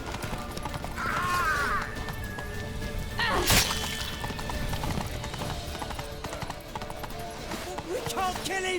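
Hooves clip-clopping from horses galloping in The Witcher 3 video game, a steady rhythmic beat under loud shouting voices and dramatic music, with a sharp crash midway.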